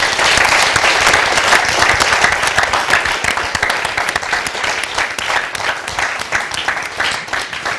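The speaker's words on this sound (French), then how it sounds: "je demande d'applaudir pour nos braves soldats" A crowd claps for soldiers in a sustained round of applause during a broadcast, loud at first and gradually thinning and softening toward the end.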